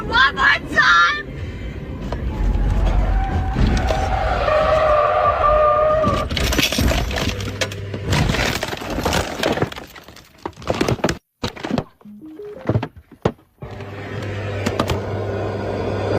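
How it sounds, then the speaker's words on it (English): A car sliding on gravel and flipping over in a crash, heard as loud scraping and breaking impacts with jolting thumps and rattles, then a scatter of sharp knocks and a lingering rumble, mixed with voices. "So apparently the car slid on the gravel and then flipped over like this."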